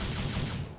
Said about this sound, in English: Dante's pistols,